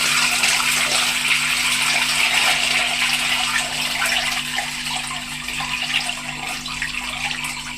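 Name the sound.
washing wild vegetables in water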